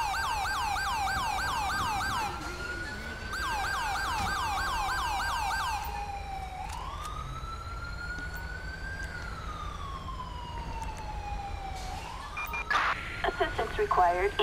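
An ambulance siren in Grand Theft Auto V wails loudly in repeating cycles, then shifts to slow rising and falling sweeps, ending with a quick yelp pattern.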